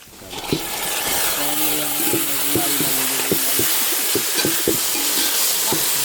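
About 300 grams of country tomatoes sizzle and fry with onions in a pan, with a steady loud hiss throughout. A spoon scrapes the pan in a series of distinct knocks as the tomatoes are stirred.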